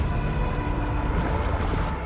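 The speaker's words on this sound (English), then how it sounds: "Waves? Yes, they are." Ocean waves wash onto a beach in the video game Death Stranding 2, a constant, full roar of surf and wind with no voices.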